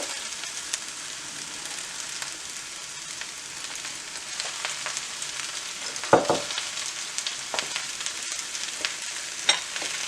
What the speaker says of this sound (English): we're going to cook it until the spinach has dissolved